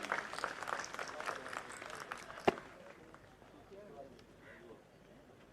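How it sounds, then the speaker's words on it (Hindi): Audience at a passing-out parade award ceremony applauds with a dense burst of clapping for about two and a half seconds, then it thins out and fades beneath quieter crowd noise. "एक बार तालियां बजा दीजिए।"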